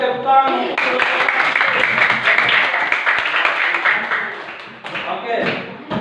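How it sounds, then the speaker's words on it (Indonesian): Classroom applause from a group of students clapping their hands together, a dense, steady patter lasting several seconds that thins briefly near the end, mixed with children's voices. "kita tepuk tangan"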